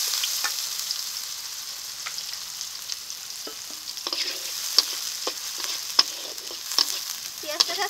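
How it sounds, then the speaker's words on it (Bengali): Chopped onion with whole cumin seeds sizzles steadily in mustard oil in a wok, a constant frying hiss broken by sharp crackles and the scrape of stirring. "পেঁয়াজটাকে এখন ভেজে নেব।"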